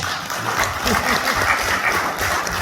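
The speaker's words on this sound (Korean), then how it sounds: "박수 한번 쳐주시죠" Warm, continuous applause from an audience at an industry-academia cooperation forum on science education, many hands clapping densely at close range, with a low voice murmuring faintly underneath.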